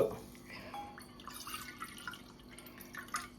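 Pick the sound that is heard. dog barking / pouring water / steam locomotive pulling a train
pouring water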